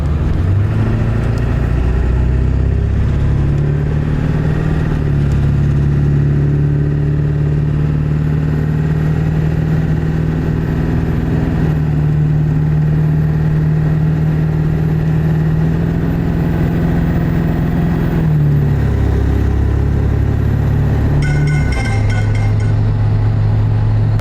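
A diesel truck running on a Hydra performance chip tune drives at steady highway speed, a loud continuous engine drone with road noise that shifts pitch briefly near the end, no talking.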